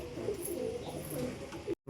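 Pigeons cooing inside a pigeon house, a pair in breeding mood, giving low repeated burbling coos close by throughout, with no talk, ending in a sudden cutoff.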